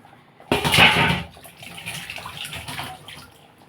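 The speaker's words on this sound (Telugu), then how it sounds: "ఇదిగోండి వాటర్ వేసేస్తాను" Water splashes abruptly into a pot of fish curry, a loud gush that settles into a softer bubbling pour over a few seconds.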